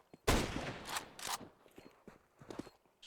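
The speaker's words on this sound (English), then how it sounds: "Shots here, rattling off through smoke, but sent back in return here." Rapid gunfire crackles in Counter-Strike, a burst of shots rattling off through smoke followed by return fire, with several sharp close bursts spread over a few seconds.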